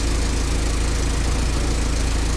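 A Ford GPW jeep engine idles steadily after carburetor work, a loud, even mechanical rumble that runs without a break from start to finish, with no voices over it.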